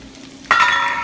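Beans, onions and fresh chili hitting a hot pan with browned garlic: quiet at first, then a sudden loud sizzle erupts and holds steady, close and alone.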